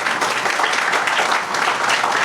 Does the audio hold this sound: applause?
yes